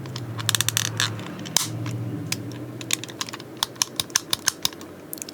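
A small plastic McDonald's Transformers werewolf kids' meal toy is handled, giving a series of sharp plastic clicks and ratchets from close up, with no talking.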